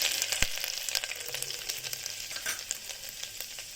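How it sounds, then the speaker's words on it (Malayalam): Ginger and garlic fry in oil for a restaurant-style dal tadka, a continuous close sizzle scattered with sharp pops and crackles. "ഇഞ്ചി ഒന്ന് ഫ്രൈ ആയി വന്ന് ഇച്ചിരി ഒരു ഗോൾഡൻ കളറായി വരുമ്പോഴത്തേക്കും"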